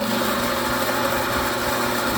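An empty coffee grinder idles to clear out remaining beans, giving a loud, steady, continuous motor whir throughout.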